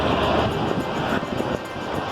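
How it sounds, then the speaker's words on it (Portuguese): A loud, steady roar of a low-flying airplane passing overhead a residential neighborhood in Portugal, its engine drone filling the whole moment. "Isso é um avião."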